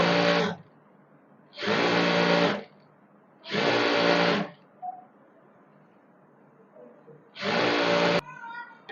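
A sewing machine runs in four bursts of steady stitching while elastic is stretched along a sharara, with quiet pauses between runs and a faint click at the end.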